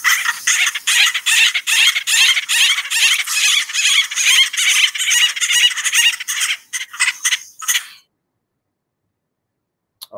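A recorded acorn woodpecker call, played back in a bird-identification guessing game during a talk on oak woodland birds, gives about eight seconds of rapid, raucous repeated squawking notes, then silence.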